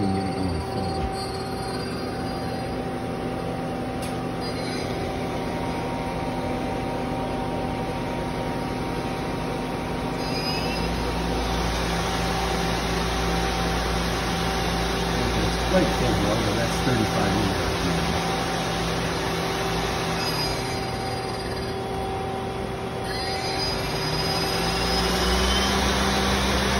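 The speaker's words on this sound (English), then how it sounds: "Here's one of the spindle going full bar. Let's see if we can get it going full." A Mazak Nexus QTN100 CNC lathe spindle runs at full speed, a steady mechanical whine with layered tonal hums that rise and shift as it spins up, continuous and fairly loud throughout.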